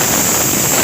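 A pressure cooker of beans for palya lets out its whistle, a steady, loud steam hiss with a sharp high tone, close and continuous with no talking.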